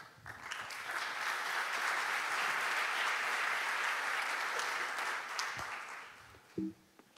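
Sustained audience applause from a conference crowd welcoming an ALMA Observatory astronomer at an innovation event, swelling into a dense, steady clapping wash that fades out near the end.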